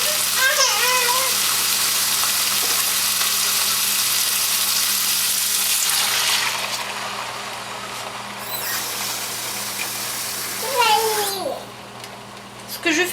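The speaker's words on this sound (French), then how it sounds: "je vais ajouter de l'eau" Water pours into a hot roasting pan holding roast chicken and sets off a loud, steady sizzling hiss that gradually fades and thins out, while voices speak briefly over it.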